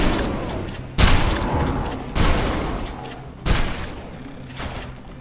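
Gunfire in Dead Island Riptide, three heavy booming shots spaced about a second apart, each followed by a long rumbling tail, heard alone and fairly close.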